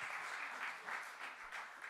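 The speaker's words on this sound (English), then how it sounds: "give them a round of applause, folks" Faint, distant audience applause at a YWAM conference event forms a steady wash of clapping that continues evenly for two seconds.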